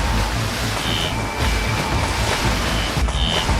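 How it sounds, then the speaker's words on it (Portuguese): A baboon troop crosses water in Kenya, making a loud, continuous rush of splashing water that stays steady and dense throughout. "O som dos cascos batendo na água ecoa, misturado ao rugido estridente, o som da água espirrando."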